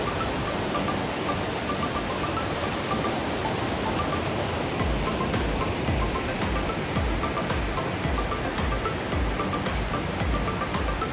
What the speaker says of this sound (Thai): すごいいい滝ですよ